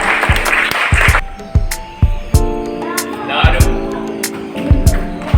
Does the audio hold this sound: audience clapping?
yes